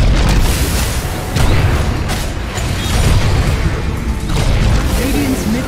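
Heavy booming blasts and rumbling crashes as barracks and towers explode and collapse in Dota 2, loud and continuous with layered impacts and debris over the full stretch.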